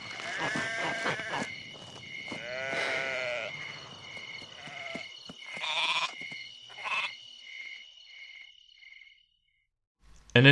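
Several sheep bleat in a cutscene from the Rayman Raving Rabbids video game, with overlapping wavering cries over soft music. The bleats are loud early on and thin out, then a short near-silence gives way to a sudden loud sound at the end.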